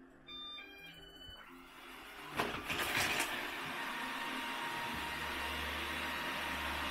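An Ecovacs Deebot N79S robot vacuum starting up after its auto button is pressed: a few electronic beeps, a short whirring burst, then a steady low motor and suction hum that settles in and continues, fairly close and with no talk.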